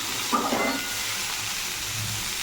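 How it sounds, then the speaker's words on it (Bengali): Potatoes and tomatoes dusted with turmeric fry in a pan, giving a continuous close sizzle with a short stirring scrape early on and no voices. "আলুটা দিয়ে নিয়েছি একটু হলুদ দিয়ে নিয়েছি এখন ভাজা ভাজা করে নেবো"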